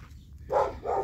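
A German shepherd off the leash on a morning walk at a canine training center gives two short barks in quick succession, fairly close and clear, with no talking.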